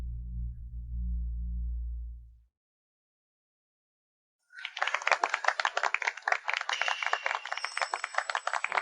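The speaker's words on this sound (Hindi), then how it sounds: "आइए अब हम सब मिलकर जोरदार तालियों से सबसे सुंदर दुल्हन का स्वागत करें" Applause welcoming the bride at a wedding: after a low droning hum cuts out and a two-second pause, a dense burst of many hands clapping breaks in close and loud, keeping a steady crackling roar to the end.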